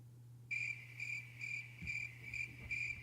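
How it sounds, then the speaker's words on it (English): Crickets chirp as a sound effect, a clear pulsing trill in six evenly spaced bursts over a faint low steady hum, with no talking. "yeah, it's crickets."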